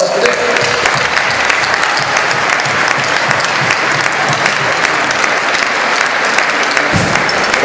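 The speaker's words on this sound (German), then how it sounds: "Applaus bitte." A crowd applauds loudly and steadily at an awards ceremony honouring the EC Peiting junior ice hockey team, with continuous clapping from many hands throughout.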